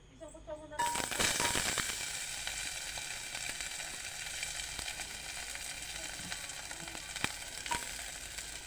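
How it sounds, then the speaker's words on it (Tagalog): Ginger, garlic and onion hit hot oil in a pan for chicken gizzard adobo, bursting into a loud sizzle that settles into a steady close frying hiss with occasional spoon clinks. "Start na po tayo mag-gisa."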